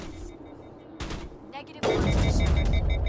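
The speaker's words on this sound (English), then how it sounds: "I just drilled that sniper. One single shot." A sharp, loud gunshot rings out in Mass Effect as a sniper is killed, followed by a burst of dense combat noise, with talk in the background.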